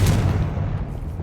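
A Confringo blasting spell from Hogwarts Legacy lands as a loud, booming burst up close, and a low rumble lingers for about a second.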